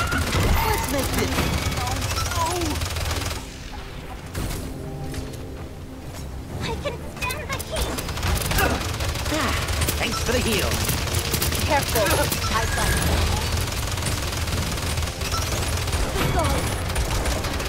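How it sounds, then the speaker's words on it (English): Rapid bursts of gunfire and fusillades from the video game Paladins, dense and continuous across a busy battle soundscape, with a voice talking now and then over the shooting. "They're firing on us!"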